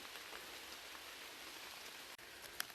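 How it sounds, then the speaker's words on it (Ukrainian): Heavy rain falls in a forest, a steady, faint hiss of drops with a single sharp tap near the end. "дощик почався дуже сильний"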